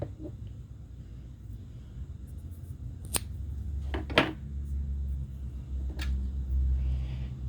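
Scissors trim yarn ends on a finished knitted hat, a few sharp close snips spread out over quiet room noise.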